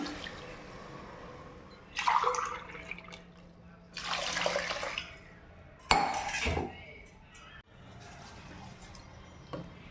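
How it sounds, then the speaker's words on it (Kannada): Water is poured from a cup into a pot for egg biryani, with a few splashing pours and clinks of metal utensils coming in bursts against quiet kitchen background. "ನಾನು ನೀರನ್ನ ಯಾವ ಲೋಟದಲ್ಲಿ ಅಕ್ಕಿ ತಗೊಂಡಿದ್ದೆನೋ ಅದೇ ಲೋಟದಲ್ಲಿ ಎರಡು ಲೋಟ ಹಾಕ್ಕೊಳ್ತಾ ಇದ್ದೀನಿ"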